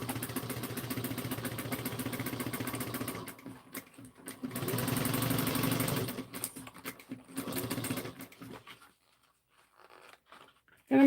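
A home sewing machine stitches fabric in steady whirring runs that stop and restart several times, with short pauses between bursts before falling quiet near the end.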